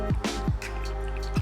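Baked feta cheese pasta being stirred together with starchy pasta water, giving a few close, wet squishing and dripping sounds in short bursts over a steady low background hum.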